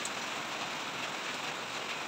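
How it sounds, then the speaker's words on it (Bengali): Rain falls steadily after a night-long downpour, an even close hiss of drops striking surfaces without any break. "তার মানে অনেকক্ষণ থেকেই বৃষ্টি হচ্ছে"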